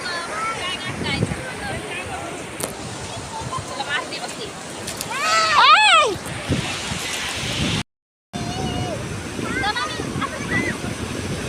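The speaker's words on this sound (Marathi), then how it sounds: "बघा लाटा किती छान" Ocean waves break on a beach in a constant broad roar of surf. Several people talk and call out over it, and one louder surge swells near the middle.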